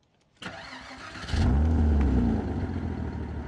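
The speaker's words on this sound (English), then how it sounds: "and then the engine fires into life" A Porsche 987 Boxster starts with the key: a short starter whirr, then the engine catches and flares up loudly before settling into a steady, close idle.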